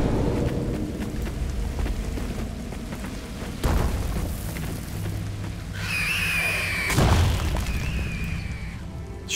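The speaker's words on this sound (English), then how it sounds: "Can we set the bomb to go off to destroy this thing?" A bomb blast destroying a Reaper indoctrination device in an abandoned mine in Mass Effect 2, heard as deep booming thuds and rumble with a later ringing whine, no voices.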